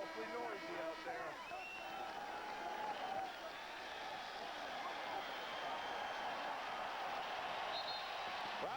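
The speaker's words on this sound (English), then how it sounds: "Crowd begins the celebration now." A basketball arena crowd roars and celebrates in the closing seconds of the deciding NBA Finals game between the Lakers and Pistons, a dense, distant swell of cheering under a commentator's voice.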